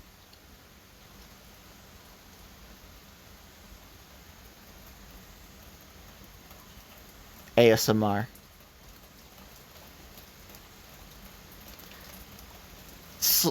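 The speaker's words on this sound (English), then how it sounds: "Going to sleep with the tin roof and it rains, guys, there's nothing fucking better." Steady rain patters on a tin roof as a continuous soft hiss, with a short burst of speech near the middle and another voice at the end.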